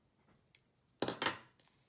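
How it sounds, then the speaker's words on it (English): Scissors snip excess glue off a flashing craft bracelet in a couple of quick, crisp cuts close by, with a fainter tick before and after in a quiet room. "I just get my scissors and trim it right off."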